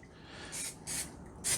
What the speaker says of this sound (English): give the spoon a little spray